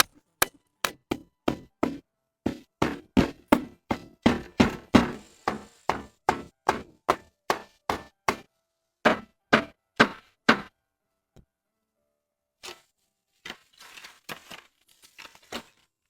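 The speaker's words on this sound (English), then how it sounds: "Then came the peg whacking." Wooden pegs are hammered into a wooden survival cabin frame: a rapid, evenly spaced run of sharp knocks that pauses, resumes, then trails off into a few scattered taps and quieter handling noises.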